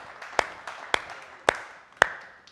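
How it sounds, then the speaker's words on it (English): A handful of sharp, separate claps ring out near and loud, four distinct hits spaced about half a second apart, as an audience begins clapping. "Good clap."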